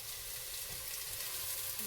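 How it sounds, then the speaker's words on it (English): Onions sauté in a pan with a continuous, fairly soft sizzle that holds even from start to finish, with no voice or other sounds. "let me go ahead and saute my onions"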